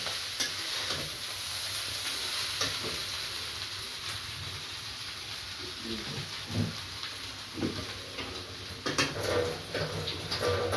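Chow noodles with black pepper being stirred in a pan: a continuous sizzle and hiss with intermittent scraping and clatter of the utensil against the pan, close, with faint voices in the background.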